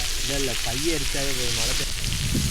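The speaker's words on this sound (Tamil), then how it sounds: "மக்களே மழை பேஞ்சிக்கிட்டு இருக்கு" Rain falls steadily at a riverside fishing campsite, a continuous dense hiss filling the whole stretch while a voice talks over it.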